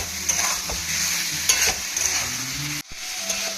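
Spiced masala gravy sizzles loudly in a pan after a small splash of water, with stirring scrapes and a steady hiss that stops abruptly near the end, then resumes more quietly.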